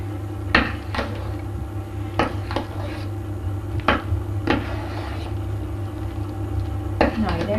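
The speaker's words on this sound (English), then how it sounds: "Now just mix this through with a spoon so that you don't destroy them" A spoon knocks and scrapes in a pot of champ, mashed potato with scallions, a few scattered clinks over a steady low hum of background noise.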